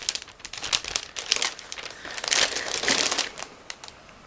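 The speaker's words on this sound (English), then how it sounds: "Now I'm opening another plastic bag" A plastic bag holding a 1/48 scale model kit's parts crinkles and crackles steadily as it is opened up close, with irregular rustling bursts that grow busier midway through.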